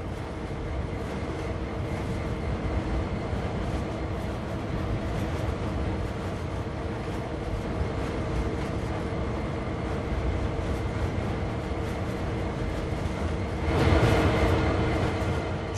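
Freight train hauling tank wagons in a train simulator video game, a continuous low rumble and rolling clatter that holds steady, with a brief swell near the end and no voices.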